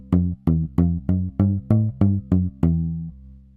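SlapStick N-100 electric percussion sounds nine evenly spaced plucked notes tapped out by hand, each a punchy low attack that decays quickly, close and clean with no voices.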